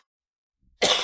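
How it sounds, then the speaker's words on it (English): A single sharp cough bursts out close and loud after near silence, cut off at the end. "when that cough took over."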